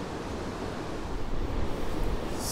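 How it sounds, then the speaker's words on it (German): Heavy wind roars steadily over the microphone along the Caminito del Rey cliffside walkway in Andalusia, Spain, a loud, dense rush with no pauses for the whole stretch. "der Wind bläst wieder von hinten zum Glück"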